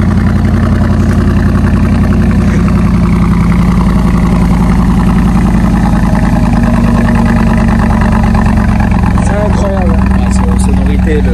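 The supercharged engine of a Mercedes G55 Brabus rumbles loud and close at idle with a deep, steady throb, while people talk over it.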